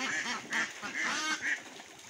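Several loud, nasal honking calls from Khaki Campbell ducks sound in quick succession, close by, with a busy flock chattering underneath.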